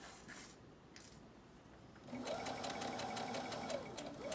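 A sewing machine runs steadily along a long side seam on a garment with pockets, starting after a quiet pause and then whirring continuously at close range to the end.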